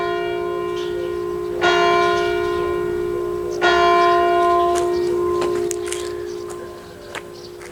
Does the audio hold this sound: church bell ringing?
yes